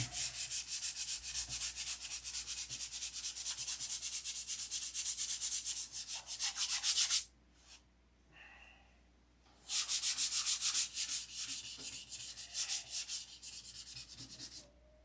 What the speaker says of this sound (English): So it's going to be many hours of this tinkering and sanding and primping.